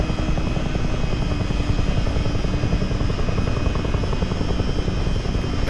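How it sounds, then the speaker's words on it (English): Steady, loud rotor drone and turbine whine of a CH-47D Chinook tandem-rotor helicopter in Microsoft Flight Simulator 2020, continuous throughout with no talk. "this Chinook is one of the fastest helicopters."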